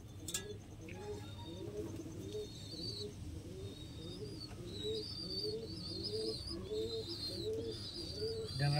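Lalsira and KTM Teddy pigeons coo in a steady, repeating series of soft throaty calls close by, with faint higher chirps from other birds in the background.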